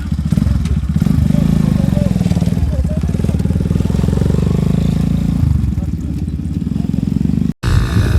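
A Chinese GR1 250cc motorcycle runs with a steady, loud, throbbing engine note close by at an enduro season opening in Batken, Kyrgyzstan, briefly cutting out near the end as voices talk over it.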